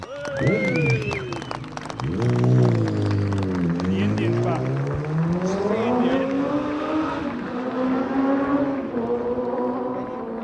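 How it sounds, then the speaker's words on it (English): Racing motorcycle engine at the Isle of Man TT, revving hard and sweeping through pitch changes as it accelerates down Bray Hill, loud and close, with a commentator talking over it. "as the notes of his engine disappear down Bray Hill"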